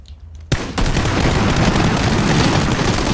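Sustained, rapid gunfire in a video game firefight starts abruptly after a brief quiet moment, then continues as a loud, dense crackling barrage with no pauses.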